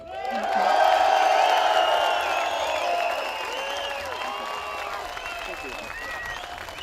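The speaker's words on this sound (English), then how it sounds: "we're going to give an enormous round of applause for Mr. David Icke." An audience at the Bilderberg Fringe Festival 2013 breaks into loud applause with cheers and whoops for a speaker, peaking early and then settling into sustained clapping while shouting voices rise above it.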